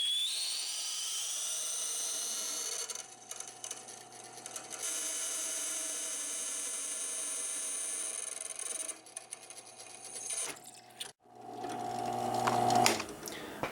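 A drill whines steadily as a dull bit grinds into a titanium cone, the pitch shifting slightly, with a few clunks and a rising screech near the end.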